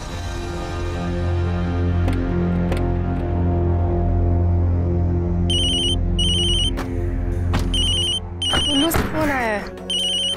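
A telephone rings in repeated electronic bursts over ongoing music and voices, the ring pattern recurring several times near the end.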